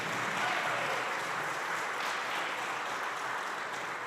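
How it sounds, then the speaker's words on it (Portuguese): A church congregation applauding during a family worship service, a dense, even wash of clapping that stays steady and fairly loud throughout with no distinct individual claps. "Quantos podem aplaudir o Senhor?"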